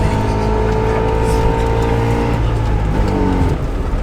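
A Trabant accelerates from standstill to about 50, its small two-stroke engine revving loudly and climbing in pitch through a gear, heard from inside the car with a steady, close drone.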